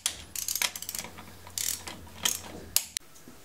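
A ratcheting wrench clicks rapidly and close up while torquing lug nuts on a wheel spacer, in quick bursts of ticks broken by short pauses and a sharper clack near the end.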